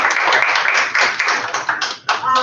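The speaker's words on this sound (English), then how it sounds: "Let's give our panel a round of applause." Audience at a community partner meeting applauding a panel, a dense burst of hand clapping from a room of people, loud and close, dropping briefly before swelling again near the end.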